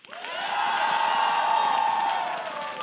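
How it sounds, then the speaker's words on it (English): A live esports crowd at a League of Legends LCS match cheers and applauds in a loud, sustained roar with whoops, swelling quickly and holding steady for a few seconds. "It's pretty loud applause."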